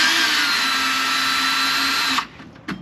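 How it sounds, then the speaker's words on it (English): A power drill fitted with a torque bit and a socket extension, working on a camper gearbox, whines steadily and loudly for about two seconds, then stops, followed by a brief short burst. "torque bit into the drill"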